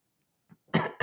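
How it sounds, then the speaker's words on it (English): Two short, sharp coughs from one person, close to the microphone and alone, preceded by a faint throaty breath. "Now I'm coughing."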